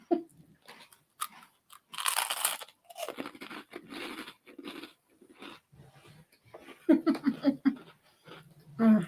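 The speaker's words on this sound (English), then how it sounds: "Can I crunch right into the mic?" Crunchy snack being bitten and chewed right up against a microphone, with loud close crunches in irregular bursts, interspersed with murmured sounds and brief breaths.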